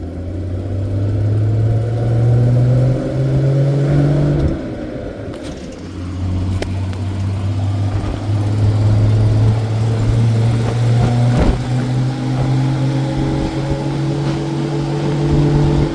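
Land Rover 109 Series engine driving across a field, a steady loud diesel drone with clear harmonics that dips briefly around a gear change, then pulls on continuously, close and without talk.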